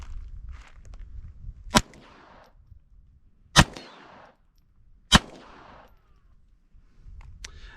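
Three suppressed gunshots from a .22 fitted with a SilencerCo Sparrow suppressor, firing suppressed ammunition, each a sharp crack with a short tail, spaced about two seconds apart outdoors with faint background noise.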